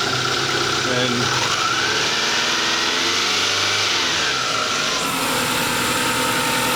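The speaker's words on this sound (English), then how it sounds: "rev it up to get rid of my misfire" Toyota Camry engine with a misfire, running loud and close, revved up and down in rising and falling swells, with a brief word spoken over it.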